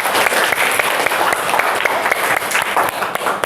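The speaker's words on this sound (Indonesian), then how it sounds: "Mari kita beri aplaus kepada kelompok 1." A class gives group 1 a loud round of applause in a school classroom. Dense, steady clapping from many hands fills the whole stretch, close and continuous.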